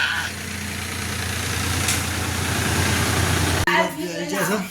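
A farm tractor engine idles at close range, a steady low rumble that runs evenly, then is briefly cut off near the end before the rumble returns.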